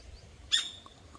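A bird gives one short, sharp high call near paddy fields and a patch of jungle, standing alone against a faint outdoor background.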